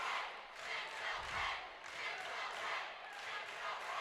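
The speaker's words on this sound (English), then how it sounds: "The crowd's into it." Crowd noise at a cheerleading championship, a steady broad roar of cheering and shouting that swells and dips in waves throughout, with a brief low thump partway through.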